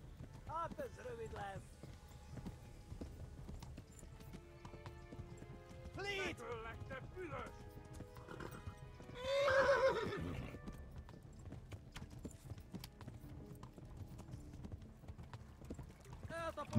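A horse in the medieval video game Kingdom Come: Deliverance clip-clops along and neighs several times, its whinnies rising out of a quiet background with hoofbeats and faint talk.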